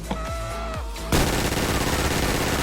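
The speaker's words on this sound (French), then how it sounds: "Vous voyez l'explosion elle est différente, le minigun aussi." GTA V game audio from a FiveM graphics pack: a short stretch of quieter tones, then a sudden loud explosion and sustained minigun fire. The dense roar continues close and steady to the end.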